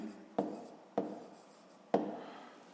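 A pen writing out a math equation, three short distinct strokes or taps, each trailing off into quiet scratching, close and faint.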